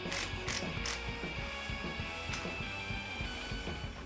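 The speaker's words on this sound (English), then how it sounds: "this plunger of our tool is going to push both sides of the U-joint out" A press tool forces U-joint caps out of a driveshaft flange on a JDM van, giving a steady run of close, rhythmic metallic ratcheting clicks from the mechanism, with no speech.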